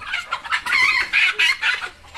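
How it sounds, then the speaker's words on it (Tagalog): A chicken clucks close by in a rapid series of short, bright calls, loud and clear with no talking. "Yan po ang manok ni Kin."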